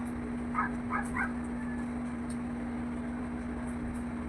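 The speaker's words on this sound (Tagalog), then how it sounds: "Uy, ang cute ng aso." A dog lets out three quick, high yipping barks in close succession early on, followed by quiet, with a steady electrical hum running beneath throughout.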